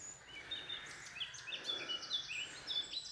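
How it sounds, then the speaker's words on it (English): Many birds chirp and sing over one another in a steady woodland chorus, bright overlapping calls with a soft outdoor hush beneath. "just listen to the sounds as well, the amount of birds in here"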